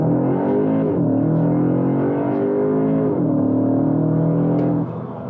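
A Cupra Terramar SUV with a 2.0 turbo engine accelerates hard, its engine note rising steadily through three gear changes with brief dips between them, loud and close from inside the cabin.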